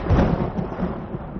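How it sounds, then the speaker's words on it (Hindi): Thunder rolling in a drama scene: a deep, heavy rumble that swells at once and then lingers with uneven low surges. It is heard alone, with no voices, for about a second and a half. "आसमान पर गरजती हुई बिजली भी तेरे नसीब पर रो रही है बफाती।"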